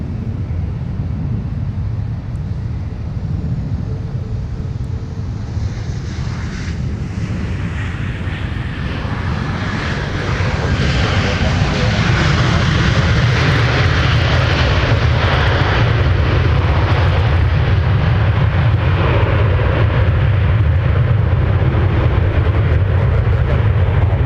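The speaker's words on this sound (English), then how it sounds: "There goes the Delta flight to Fairbanks, Alaska" A Delta Boeing 737-900ER jet departs Minneapolis–St. Paul airport with a broad, steady engine roar that swells louder and fuller as it climbs past, with no talk over it.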